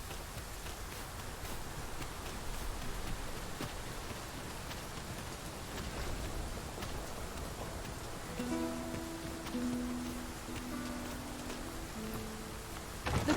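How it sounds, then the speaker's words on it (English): Steady rain falls in the fantasy role-playing game Dragon's Dogma 2, a continuous wash of hiss with faint low tones rising late, no voices. "It's raining. Let us find cover ere the water enters our boots."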